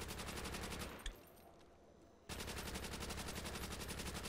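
In a video game, rapid automatic gunfire is aimed at a wall. Fast, evenly spaced shots fire in a steady burst, stop briefly after a single shot, then start again in another sustained rattling burst.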